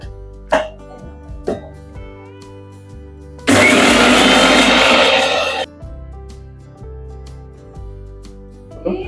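A mixer grinder whirs loudly for about two seconds in the middle, a harsh grinding burst of roasted spices, while background music with plucked notes plays before and after.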